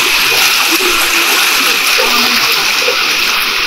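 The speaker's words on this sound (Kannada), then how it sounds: "ನೀರಿನ ಸೆಳೆತ ಎಷ್ಟು ಜೋರಿದೆ ಅಂತ ಈ ಸ್ಥಳದಲ್ಲಿ" Strong river current near Hebri rushing in a dense, steady roar of churning water, loud and close throughout with no break.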